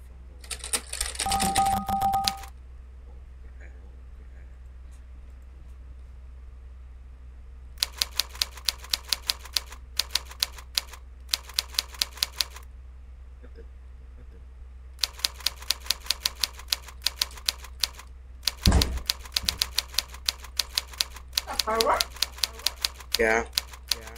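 Touch typing on a keyboard, heard as rapid bursts of crisp key clacks in several separate runs with quiet pauses between them, close and fairly loud; a short voice and a brief thump come near the start.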